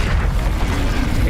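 An Incendio fire spell goes off in Hogwarts Legacy as a dense, roaring whoosh of flame with a heavy low rumble, filling the whole brief moment without pause.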